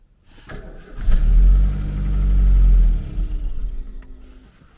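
A Citroën DS Pallas on a cold morning, its starter cranking briefly before the engine catches with a deep, loud rumble that swells, settles and fades into a steady idle, close by with no talk.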